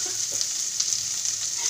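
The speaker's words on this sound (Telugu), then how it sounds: "కొంచెం అల్లం వెల్లుల్లి కూడా వేయాలి. ఇది వేగిన తర్వాత అది వేస్తాను." Ginger and garlic frying in a pan while making coconut rice, giving a steady, close hiss of sizzling oil with faint stirring clicks throughout and no talking.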